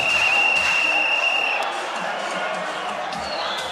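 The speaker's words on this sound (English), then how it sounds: "The crowd are loving every minute of it." A boxing arena crowd at a professional bout cheers and roars, a steady loud wash of noise with a whistle piercing through early on.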